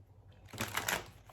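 A deck of tarot cards is shuffled by hand in a soft, quick riffling burst, faint and close, with no talking.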